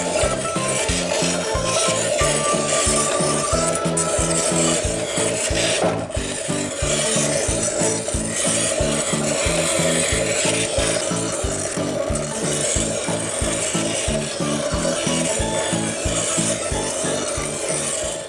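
An old water-cooled grindstone wheel in a museum of vintage bicycles sharpens tools, giving a continuous loud rasping, scraping grind with a steady pulsing rhythm from the turning wheel.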